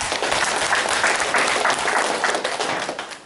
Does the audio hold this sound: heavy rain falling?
no